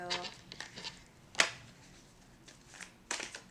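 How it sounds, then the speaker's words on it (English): Tarot cards are shuffled by hand in short riffling bursts, several quick flurries separated by brief pauses, close and clear with no talking. "so I'm going to start shuffling"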